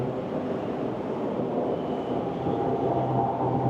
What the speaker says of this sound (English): Oh, here comes the tram.